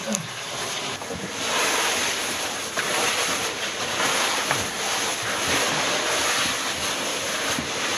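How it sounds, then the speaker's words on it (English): A stream rushing through a cave passage on the North York Moors with a draught blowing out, a steady broadband roar of water and moving air, loud and close throughout with no talking. "Good stream going down it, good draft coming out of it."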